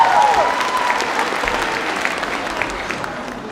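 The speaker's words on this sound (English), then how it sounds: "Big round of applause one more time for that beautiful" Audience at a Samoan fa'afafine pageant in Auckland applauding a contestant, steady moderate clapping throughout with a brief voice at the start.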